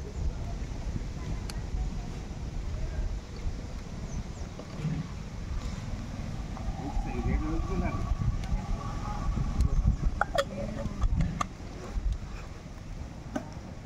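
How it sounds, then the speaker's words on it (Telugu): Steady, rumbling wind buffets the microphone throughout at an outdoor wood fire on a canal bank, with faint talking and scattered clicks and knocks underneath. "గాలి వేస్తుంది. గాలికి ఇబ్బంది అవుతుందండి బాగా"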